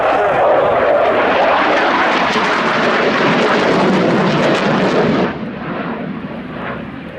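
A MiG-21 LanceR jet fighter passing at the Royal International Air Tattoo air show, a loud, broad roaring engine rush that holds strong and then drops off sharply toward a quieter rumble as it moves away.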